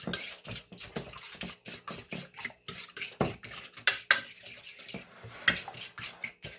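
A cinnamon and sugar mixture stirred in a bowl, with a steady, rhythmic series of close scraping clinks of a utensil against the bowl, loud and continuous throughout.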